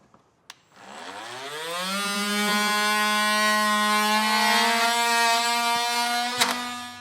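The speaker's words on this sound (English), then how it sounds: "so I'm going to be using our electric multi-tool here" An electric oscillating multi-tool scraping rubber coating off the frame of a 2018 Jeep Compass, a loud steady high buzzing drone that starts after a click, holds for several seconds and cuts off near the end.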